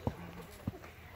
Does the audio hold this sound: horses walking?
yes